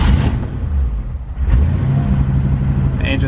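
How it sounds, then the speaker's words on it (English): A 1955 Chevrolet Bel Air engine fires up, giving a steady low rumbling idle that stays loud and close throughout, with a brief higher whine near the end. "We can go ahead and start it up for you."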